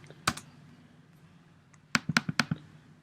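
Typing a font name on a computer keyboard: a single key tap, a pause, then a quick burst of five or six crisp, close clicks with no talk.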